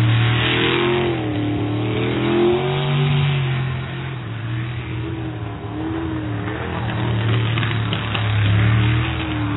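A racing boat's engine revs steadily during a qualifying session after changes to the rear configuration, with a loud, continuous droning tone that rises and falls in pitch, close and dominant with no talk.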